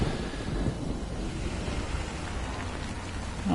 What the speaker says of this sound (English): The rain scared him off.